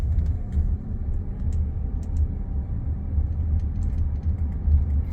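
A Waymo self-driving Jaguar drives through Tempe, Arizona, heard from inside the cabin as a smooth, low road rumble. The hum stays steady, with a few faint clicks and ticks on top.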